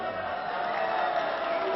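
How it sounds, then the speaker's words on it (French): A wrestling crowd cheers and applauds in an indoor hall, a dense, steady roar of many voices and clapping that stays at a constant level for the whole short stretch. "il salue et il commence à être applaudi"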